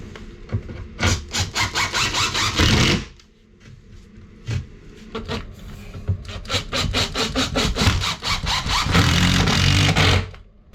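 Power driver sinking 2.5-inch screws into an Impey Level Deck for a level access shower, heard as loud whirring bursts that stop for a quiet pause and then run on again with rhythmic pulsing.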